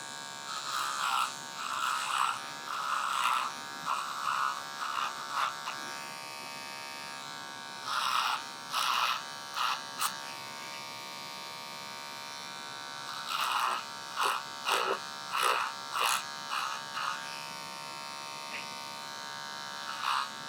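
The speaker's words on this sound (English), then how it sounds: "Now we're gonna remove the weight line, demonstrating the clipper over comb technique" An electric hair clipper buzzes in repeated short bursts while cutting with the clipper-over-comb technique to remove a weight line during a haircut, close and steady, with brief quiet pauses between passes.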